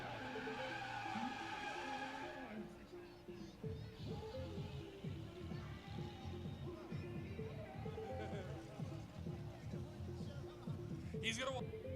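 A drift car does a burnout at a drift and stunt show, with a loud engine roar and a continuous rough squeal of tires spinning against pavement, and an announcer talks throughout.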